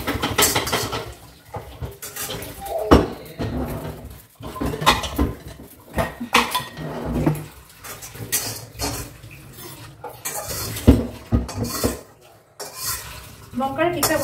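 Dry red chillies and whole cumin are dry-roasted in a pan at home, with repeated spatula scraping, stirring and metallic clinks coming in uneven bursts close by, and no talk.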